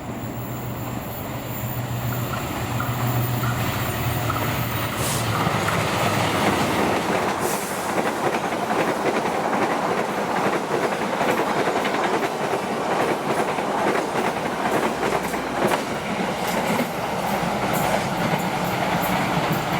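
The Argo Parahyangan passenger train, running as an extra service, rolls past on the rail line with a loud, sustained roar and rhythmic clickety-clack of wheels over the track joints, sounding steady and close throughout.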